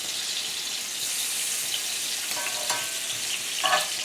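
Lamb chops frying in a hot pan, a continuous bright sizzle with brief crackles and spits, close and alone.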